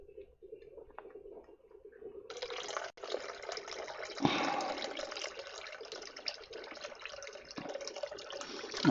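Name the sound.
pouring off liquid from settled yeast in home brewing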